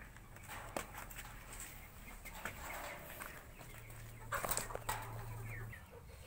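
Soft, low clucking from an American Silkie hen close by, with scattered small rustles and scratching sounds in a quiet setting.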